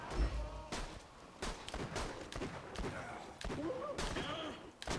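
Gunfire in the video game Borderlands 2, rapid bursts of shots and impacts with thuds, continuous and busy with a few tonal game effects mixed in.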